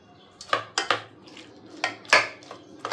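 A knife cuts a roasted, peeled tomato inside a metal cooking pot for litti chokha, giving a few sharp, close metallic taps and clinks at an uneven pace.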